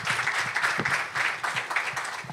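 Sustained audience applause fills a launch event, a dense, steady wash of many hands clapping close by that holds for the whole stretch with no talk over it.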